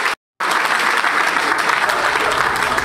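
Sustained applause from a wedding party audience cheering the couple Marina and Carel, breaking in loud and steady after a brief moment of silence and continuing with dense clapping to the end.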